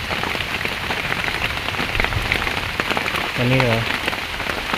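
Rain falls steadily on surfaces outdoors, a dense, loud hiss of drops throughout, with a man's brief spoken phrase near the end.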